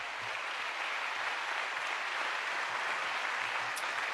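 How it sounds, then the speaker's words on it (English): Audience applause at a public hearing on the John F. Kennedy assassination records, a steady wash of many hands clapping, fairly faint and distant, sustained throughout with no voices over it. "Let's give them a round of applause."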